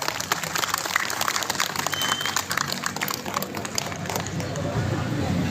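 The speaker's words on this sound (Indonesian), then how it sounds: "Tepuk tangan dong" A crowd at a PSHT martial arts thanksgiving gathering in Balikpapan claps steadily throughout, a dense patter of applause with some murmuring beneath it.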